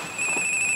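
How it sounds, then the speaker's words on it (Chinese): A telephone rings with a steady electronic tone, close and loud, alone without talk. "我接一下电话咧"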